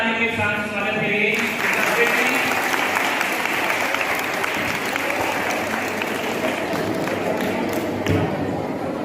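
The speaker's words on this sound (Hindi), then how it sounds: "जोरदार ताली के साथ स्वागत करिए" An audience at a school Kathak dance program claps loudly to welcome a Kathak dancer, with steady, dense applause filling the whole clip and a voice briefly audible near the start.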